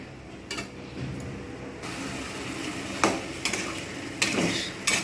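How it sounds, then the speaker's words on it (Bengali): Spice mixture being sautéed with potatoes in a pan, a soft frying sizzle broken by several sharp scrapes and knocks of a spoon against the pan. "এটা একটু ভালোভাবে কষে নেব আলুর সঙ্গেই কষে নেব"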